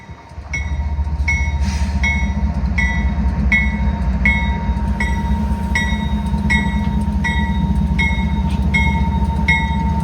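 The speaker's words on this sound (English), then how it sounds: "here comes 423 back from North Dayton. And he's only got 2 locomotives." A freight train pulled by two locomotives rolls in on a mainline track, a steady loud rumble of engines with rhythmic clicking of wheels over rail joints continuing for the whole stretch.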